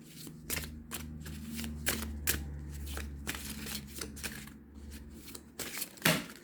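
A deck of tarot cards being shuffled and handled by hand, soft riffling and papery slaps repeating steadily at close range, with a low hum underneath.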